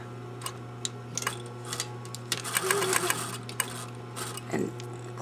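Sewing machine stitching a fabric gusset up to a marked dot and back-tacking, close rapid mechanical ticking in short bursts with small clicks and pauses between runs.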